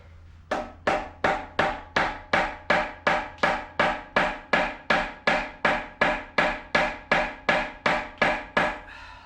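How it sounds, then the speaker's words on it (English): A plastic dead blow mallet strikes parts of a Mitsubishi 6G74 DOHC engine during teardown, about twenty evenly spaced, sharp, solid blows landing close by in a steady rhythm with a short ring after each. "Not a rubber mallet, sorry, a dead blow mallet."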